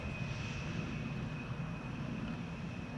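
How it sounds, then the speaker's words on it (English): A Lufthansa Airbus A319 airliner arriving from Munich at Amsterdam Schiphol, a steady distant engine roar with a faint high whine, constant and low in level. "parallel arrivals have begun with Lufthansa flying in to runway center."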